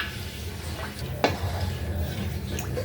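Coconut cream mixture for maja blanca is stirred continuously in a pot, with a gentle simmer, soft scraping and one sharp utensil knock against the pan, heard close up.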